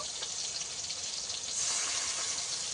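Water poured from a jug into a spice and ground coriander paste in a pan with fried tomatoes, a steady hissing pour lasting a few seconds, close and fairly loud with no talk.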